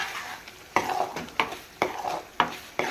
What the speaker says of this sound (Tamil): இந்த இஞ்சி பூண்டு பேஸ்ட்டு நல்லா வெந்து வரணும் பார்த்துக்கிறோம்